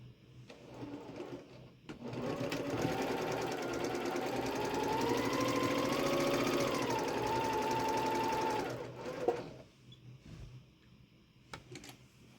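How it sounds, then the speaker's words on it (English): A sewing machine stitches quilt pieces for a fabric studio sew-along, running steadily and close for about seven seconds before stopping, followed by a few faint handling clicks and no talking. "I'm going to sew them both at the same time."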